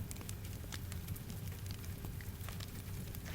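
Wood fire crackling inside a cabin with rain falling steadily outside, a dense constant patter and scattered sharp snaps over a low, even bed of noise, with no voices.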